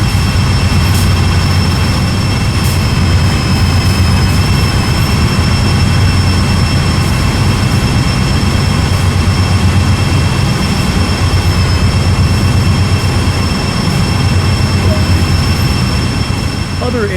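A GP38-2 diesel locomotive on Sand Patch Grade in Train Sim World 2 drones steadily, a loud, constant engine rumble with faint high whining tones holding through the whole stretch.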